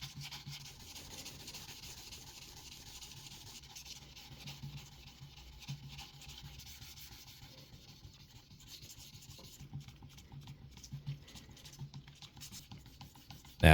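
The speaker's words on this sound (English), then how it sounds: "This is basically a full day of sanding" Guitar bodies are rubbed by hand with fine micro mesh sandpaper, giving a soft, continuous scratchy rasp with faint rhythmic strokes and nobody talking.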